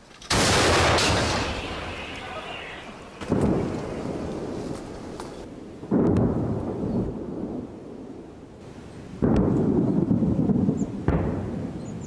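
An artillery gun fires at the front in wartime: about five heavy, distant booms come at irregular intervals, each followed by a long rolling rumble.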